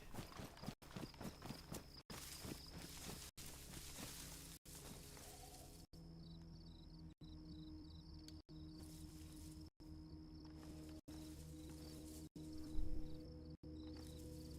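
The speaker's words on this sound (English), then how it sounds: "There's like footstep sounds in this song" Steady footstep-like clip-clop beats sit within a music track playing in the Xbox game DayZ on the Livonia map, with regular dropouts and a constant tonal bed underneath.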